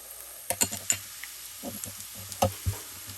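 Mustard seeds and black cumin fry in oil with a soft, low sizzle, punctuated by a few sharp pops and light clinks of a utensil against the pan.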